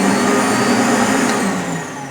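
A Nilco E40/55E scrubber dryer runs with its suction motor on, giving a loud, steady vacuum-like whine and roar that holds nearly constant for about two seconds and dips slightly toward the end.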